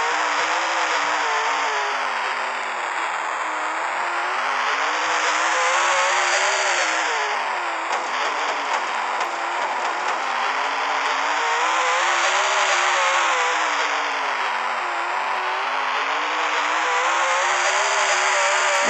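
Modified race car engines roar continuously on a dirt oval in the Dirt Trackin racing video game, their pitch steadily rising and falling in long waves as the cars lap, loud and close with no talk.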